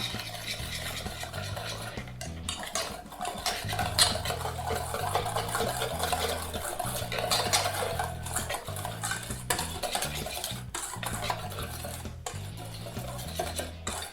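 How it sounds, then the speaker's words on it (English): Egg being whisked into batter in a bowl, a steady close run of rapid whisk and utensil clatter against the bowl that continues unbroken, with no talking. "Dump that in there and get that all whisked up."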